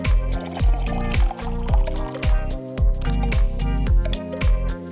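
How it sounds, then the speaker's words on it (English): Water runs into the tank of a KitchenAid semi-automatic espresso machine with burr grinder, a close, bubbling fill with a repeating gurgling pulse that continues steadily throughout. "Then, fill up your water tank."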